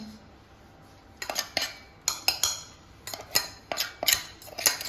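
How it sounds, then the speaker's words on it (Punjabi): A spoon scrapes and clinks against metal while ground fennel powder is moved from a grinder jar into a serving bowl, giving repeated sharp clatters in irregular bursts, close and without talk. "ਲੋ ਜੀ ਆਪਾਂ ਪਾਊਡਰ ਬਣਾ ਲਿਆ ਤੇ ਆਪਾਂ ਨੂੰ ਡੋਂਗੇ ਦੇ ਵਿੱਚ ਕੱਢ ਲੈਂਦੇ ਆ"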